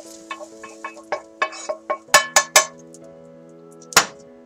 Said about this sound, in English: returning the pan to the burner